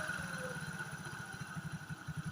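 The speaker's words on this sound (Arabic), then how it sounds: "ها الموتور ديالي ولا كيقطع دابا" A motorcycle engine idles close by with a rough, uneven low throb, its faulty idle air setting making it prone to cutting out; the rumble stays continuous with no voices.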